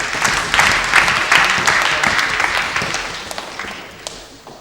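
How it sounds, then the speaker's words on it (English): Participants at a debate afternoon give themselves a round of applause. The clapping starts loud and dense, then gradually thins and fades into a few sparse, isolated claps. "you should give yourselves a hand clap"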